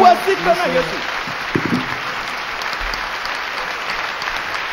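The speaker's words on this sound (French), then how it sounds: "Acclamons fortement." A church congregation breaks into loud applause, dense steady clapping filling the room for nearly five seconds, with a brief burst of voices and organ-like tones near the start.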